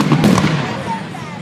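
Fireworks go off at night, a dense rumbling crackle of bursts right at the start that fades into a lingering outdoor wash, with people talking over it.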